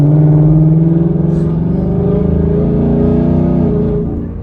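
A Ford Mustang GT 5.0 with a Lund Racing tune accelerates on the road, its loud, close V8 exhaust rising in pitch through a gear, then easing off toward the end.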